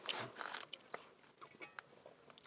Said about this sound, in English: pardon my munching sounds here